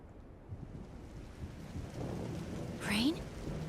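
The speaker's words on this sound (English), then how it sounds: "Rain?" Rain falls steadily in Trails in the Sky FC while a low thunder rumble builds, with a brief rising swoosh near the end; soft ambient game atmosphere, no voices.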